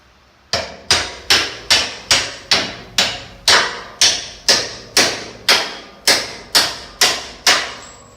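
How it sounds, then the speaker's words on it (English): A hammer taps an old U-bolt out of a leaf spring on a small camper frame. Fourteen or so loud metallic strikes land in a steady, even rhythm close by, each ringing briefly, with no voices. "And tap that old bolt out of there."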